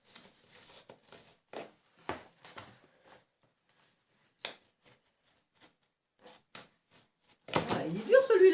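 Tough, stiff cardboard being cut for a homemade cardboard clock: a series of short, crisp snipping and tearing strokes at an irregular rhythm, close by, with someone talking in French in between.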